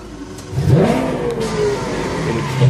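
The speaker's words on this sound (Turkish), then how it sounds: "Bir motor sesini duyabilir miyiz lütfen?" A Lamborghini Aventador engine starts and revs, rising into a single loud sweeping roar that settles into a steady rumble, heard close by with no talk.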